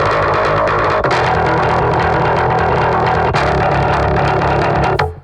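A heavily distorted trailer guitar riff from a modern hybrid trailer library plays loud and alone, with dense chugging chords, a couple of sharp accent hits and a quick cutoff at the end.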